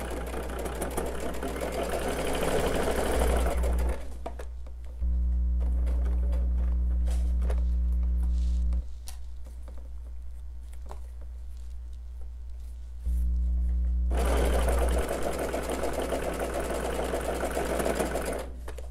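A sewing machine stitches a pinned quilt block seam in bursts: a long run of steady whirring, pauses, two shorter stitching passes with a lower motor hum, then another long run, close and loud with no talk.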